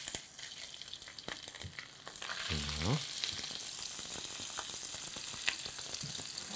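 Fish fillet frying skin-side down in a dry non-stick coated pan, a steady close sizzle that swells louder partway through, with brief clatter and a short word spoken early on.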